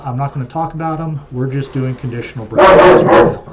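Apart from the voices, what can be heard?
dogs barking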